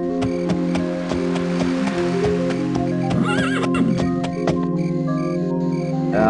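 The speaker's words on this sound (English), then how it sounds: "I like having a horse." A horse in the video game Daggerfall neighs and whinnies over steady clip-clopping hooves, with layered game music and effects running underneath throughout.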